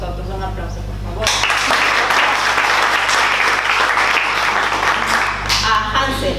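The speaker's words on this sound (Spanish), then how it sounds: "Un aplauso, por favor." An audience at a cultural association event bursts into loud, sustained applause after a moment of talk, the dense clapping filling the rest of the stretch.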